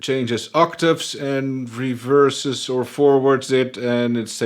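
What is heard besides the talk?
No distinct noise like a dog, phone or traffic.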